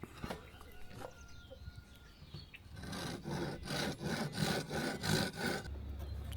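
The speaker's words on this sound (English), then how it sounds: "then we need to set the length of this 3/8 dowel and get that cut" A hand saw cuts a 3/8 inch wooden dowel to length, a run of steady rasping back-and-forth strokes that builds to a rhythmic, close sawing sound, alone without talk.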